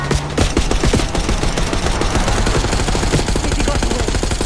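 Rapid, dense gunfire from the Black Ops 6 campaign as a limo speeds down a street, with continuous automatic bursts and sharp shots filling the whole stretch at loud, close range.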